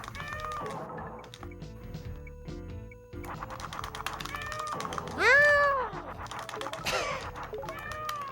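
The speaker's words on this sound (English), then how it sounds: "I'm glad that every animal meows at you" A video game cat meows again and again, clear and close, with one louder drawn-out meow in the middle, heard over game music and keyboard clicks.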